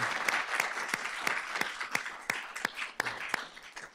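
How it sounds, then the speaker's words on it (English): A small crowd claps steadily, a scattered patter of hands with a few sharper claps standing out, moderately loud throughout. "Can we give him a round of applause, please, and his, his team?"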